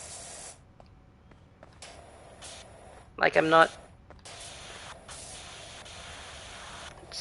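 Pressure washer spray cleaning chairs in a video game, a brief burst of loud hissing spray lasting about half a second midway, with steady low background noise and a person talking before and after.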